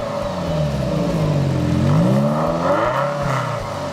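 A 1989 Ferrari Mondial t coupe engine in the Forza racing game revs loud and steady, its pitch sweeping up and down through a smooth, continuous whine with no speech.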